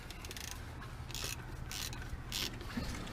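A digital torque wrench being worked on a Cat TH407 telehandler, giving a quiet run of soft mechanical clicks and ratcheting close by, with low machinery hum underneath and no talk.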